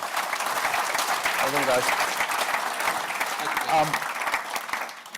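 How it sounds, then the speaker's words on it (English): A conference audience applauds steadily for several seconds, a dense wash of clapping filling the room while a voice briefly speaks over it. "Can we have a round of applause, please, for these 4?"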